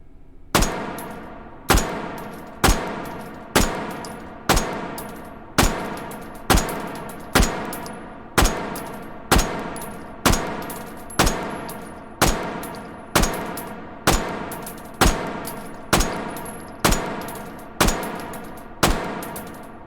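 Seventeen evenly spaced single pistol shots from a Bergmann No. 5 in the H3VR virtual range, each sharp crack followed by a short ringing decay, loud and close with no talking.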